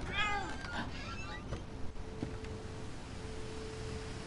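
A cat in the video game What Remains of Edith Finch gives a short, close meow at the start, followed by faint rustling and quiet hissy background ambience.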